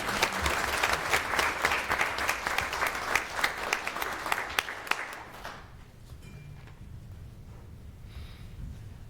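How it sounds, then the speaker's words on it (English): A crowd at a city council meeting claps in steady applause for about five seconds, then it fades out to quiet room murmur. "Let's give them another round of applause."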